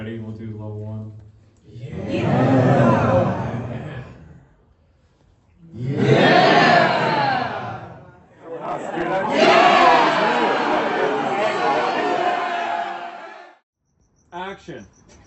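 A group of people on a film set imitate a roaring crowd, shouting ahs and yeahs in three loud swelling bursts separated by brief pauses, with a short voice at the end.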